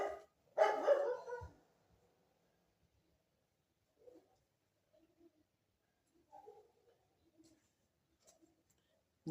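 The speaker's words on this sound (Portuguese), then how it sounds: "Aí o cachorro não para." A dog indoors barks in a loud burst of several close barks, then gives fainter scattered yips and whimpers separated by quiet gaps.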